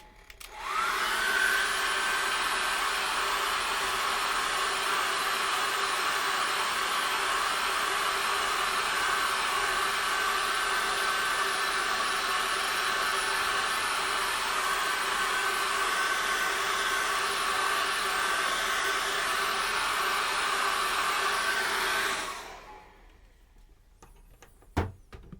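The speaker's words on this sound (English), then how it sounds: "I'm going to dry that very well, very well with a hairdryer" A hairdryer blows steadily on wet acrylic paint for a landscape painting, a loud, even whoosh running about twenty-two seconds before it switches off, followed by a brief click.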